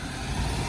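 Oldsmobile Cutlass engine idling with a modified exhaust, a steady low rumble heard close and loud for a brief moment, no talking.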